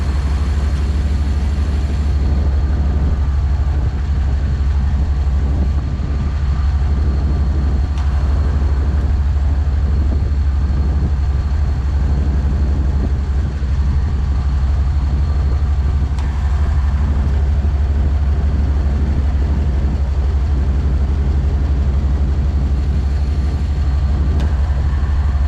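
A car engine idles steadily while its R134a air-conditioning compressor cycles during a recharge, producing a continuous low drone with only subtle shifts in tone and no talking.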